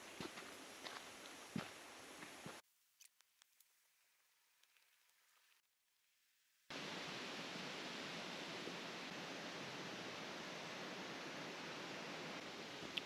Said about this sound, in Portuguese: Nossa, traz uma tranquilidade esse barulho de água no meio do mato.